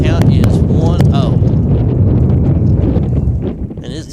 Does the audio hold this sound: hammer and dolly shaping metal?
no